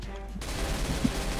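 Gunfire in Counter-Strike: Global Offensive, a burst of shots over a steady low rumble of game noise with one sharper crack near the end, moderately loud.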